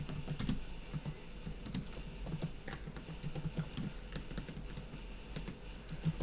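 Steady typing of C++ code on a computer keyboard, with quiet irregular key clicks and taps running throughout at close range, no voice present.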